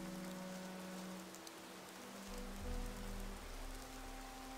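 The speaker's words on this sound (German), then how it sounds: "Jetzt schüttet es auch noch." Heavy rain pours steadily in the fantasy role-playing game Gothic II, a dense, even hiss of downpour with a deeper rumble swelling in the second half, heard alone without voices.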